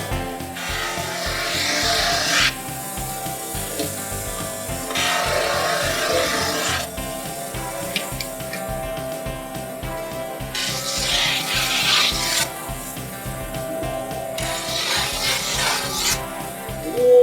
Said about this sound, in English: He's gonna take the snowboard and grind the edges.